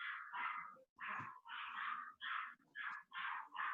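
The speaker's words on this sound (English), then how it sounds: "Dog barking." A dog barks repeatedly during a podcast recording, a run of about eight loud, close barks in quick, uneven succession with no talk over them.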